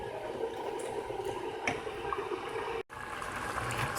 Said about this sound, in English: So I'm just waiting for my water to boil.